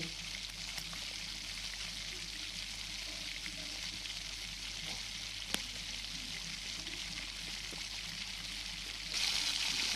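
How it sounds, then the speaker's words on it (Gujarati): Pav bhaji bhaji simmering in a home kitchen pan, a steady close bubbling and sizzling that runs evenly throughout with one sharp tap midway and a slight rise in hiss near the end, no talking. "સરસ એવા આપણે ભાજીમાં 2 ઉફાણા આવી ગયા છે"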